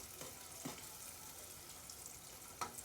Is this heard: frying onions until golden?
yes